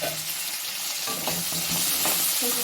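Chopped tomato frying in a pan for a mushroom butter gravy, a close, steady hiss and crackle with light stirring scrapes, growing slightly louder.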